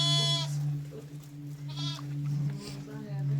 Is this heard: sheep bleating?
yes